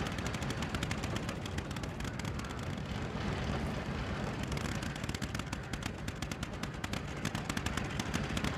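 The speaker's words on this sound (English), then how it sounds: "They're shooting from above." Enemy gunfire rains down from above during a fight in The Evil Within, a dense, continuous rattle of shots that stays loud and steady throughout with no pauses.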